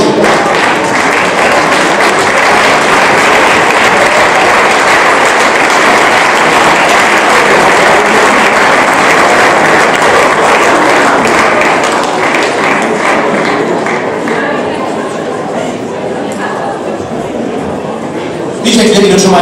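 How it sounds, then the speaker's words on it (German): An audience at a sports award ceremony, following a pole dance act, applauds loudly and densely, the clapping thinning and fading toward the end with some voices mixed in. "einen riesen Applaus nochmal für euch"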